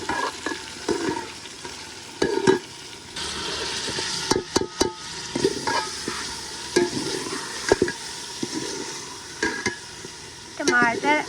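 Chicken pieces frying in a pot in a village mud-house kitchen, a steady sizzle broken by repeated scraping and clinking of a spoon stirring against the metal, faint in places.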